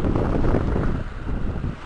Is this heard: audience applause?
no